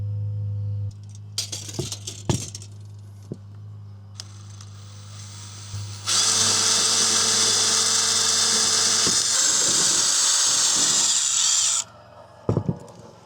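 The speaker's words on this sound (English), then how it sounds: "So let's take the hole saw. Go super easy." Hole saw cutting through a cargo trailer wall: a few sharp knocks and brief spins, then a loud, steady grinding whine for about six seconds that stops abruptly, followed by clatter.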